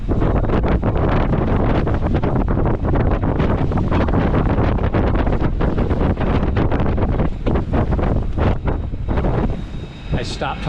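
Strong wind buffets a boat on open water with a lake-freighter route toward the Soo Locks, a loud, continuous roar of gusts battering the microphone throughout, slightly easing near the end.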